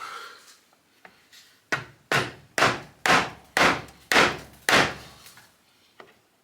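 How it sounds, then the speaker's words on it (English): Seven or so dull thuds from a rubber hammer tapping a coolant expansion tank into place on a BMW E46 land at a steady pace, close and solid, with softer taps before and after. "I'm going to give it a tap with a rubber hammer."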